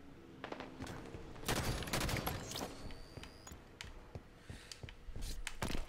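Gunshots in a Halo 5 Swat match crack out in clustered bursts and single sharp shots, fairly close, with scattered clicks and impacts between volleys.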